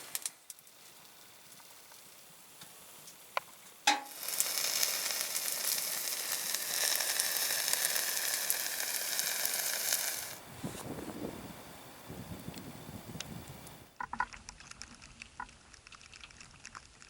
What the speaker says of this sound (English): I got my lunch cooking away